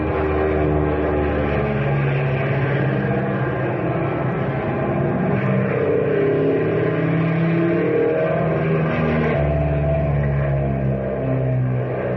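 Radio-drama engine effect for a fast car: a continuous, loud engine roar that holds steady throughout with slight swells, alone with no voices.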